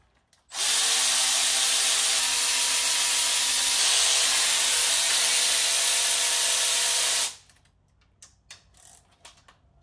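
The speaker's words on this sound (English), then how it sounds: "you're just going to pull off all of these bolts starting from the outside, working your way in" A power tool drives a 12 mm socket to back out valve cover bolts on an engine, a loud steady whir running about seven seconds before cutting off, followed by faint scattered clicks and handling noises.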